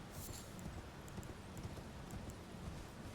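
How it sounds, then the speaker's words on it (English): Horse galloping in Elden Ring, with rapid rhythmic hoofbeats on the ground at a quiet, even level throughout, alone without talk. "Alright, saddle up my horse."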